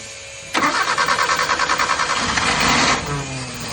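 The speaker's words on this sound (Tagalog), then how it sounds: "Yan ang andar talaga niyan. O, di ba? Cold start yan." A car engine cold-starts with a sharp crank, then settles into a steady, loud, rhythmically pulsing idle nearby before easing slightly, with no voices over it.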